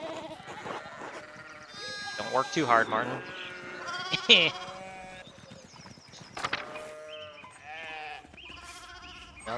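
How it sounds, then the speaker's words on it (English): Sheep bleat in a medieval village scene from the video game Pentiment, several short wavering calls rising in the middle of the stretch while people talk throughout. "we need to get these sheep under control"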